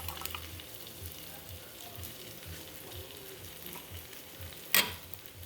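Lemongrass mussels cooking in coconut milk in a pot, giving a low, steady simmering bubble with faint stirring, then a brief sharp clatter near the end.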